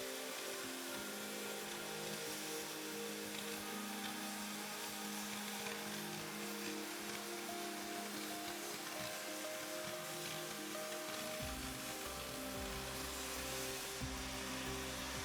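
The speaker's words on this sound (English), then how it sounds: "Cut your workpiece by operating the cutting oxygen lever." A StarCut oxyfuel hand cutting torch cuts through a workpiece, a steady, loud roaring hiss that runs unbroken throughout, with a slight change in its low rumble near the end.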